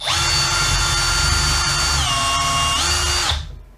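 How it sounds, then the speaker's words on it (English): A drill bores a pilot hole into heavy-grained floorboard wood, a loud steady whine that shifts pitch briefly midway, then winds down and stops after about three seconds. "And drill,"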